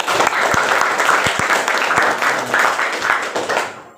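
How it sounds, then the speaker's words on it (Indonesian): Classroom applause for a student during a lesson on procedure texts, a dense, steady patter of many hands clapping together that fades out at the end. "Tepuk tangan untuk Fania"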